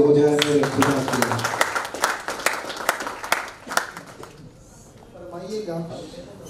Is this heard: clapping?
yes